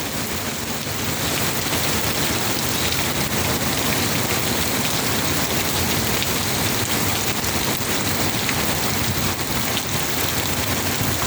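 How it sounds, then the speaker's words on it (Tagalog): Heavy rain pours steadily and loudly, a dense unbroken hiss of drops drumming on surfaces with no voices. "ang lakas ng ulan"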